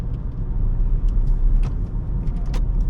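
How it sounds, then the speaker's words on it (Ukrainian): A car making a U-turn at a city intersection, heard from inside as a steady low engine and road rumble with faint ticks and clicks on top, no talk. "Будемо зараз робити розворот"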